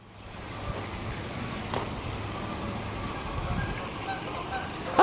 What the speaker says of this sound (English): Oh, do you hear the geese?